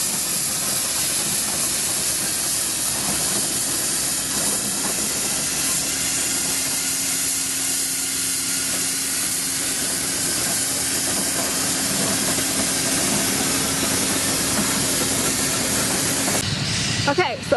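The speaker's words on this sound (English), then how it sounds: "here's another shot of a steam engine." A steam engine hisses steadily at the 2015 Northeast Missouri Old Threshers Show in Shelbina, Missouri, a constant loud outdoor rush of steam with a faint low hum beneath it, lasting nearly the whole stretch.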